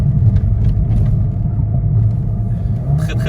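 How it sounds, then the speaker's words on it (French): A Mercedes-AMG A35 with a 306 hp engine rumbling nearby, a loud steady low growl that holds for a few seconds with no talk. "Très très belle AMG qu'on va filmer aussi sur la chaîne"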